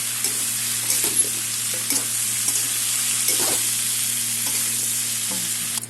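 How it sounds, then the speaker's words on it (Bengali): Cumin powder and several chili powders, including Kashmiri, frying together in a pan for a Bengali drumstick curry, giving a steady close sizzle with a few scraping stirs and a constant hum underneath, no talking. "সব একসাথে এখন কষিয়ে নেব।"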